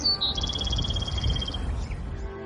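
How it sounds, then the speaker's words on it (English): Birds chirp in a quick high trill for about a second and a half over a steady low outdoor rumble, then fade. "you can hear the birds chirping and the trees."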